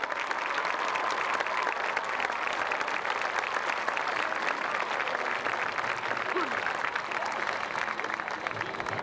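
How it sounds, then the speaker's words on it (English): A large audience applauds high school marching bands at a WVU Day evening event, a dense, steady wash of clapping filling the hall for the whole stretch at an even level. "Let's give them all another round of applause for their outstanding performance."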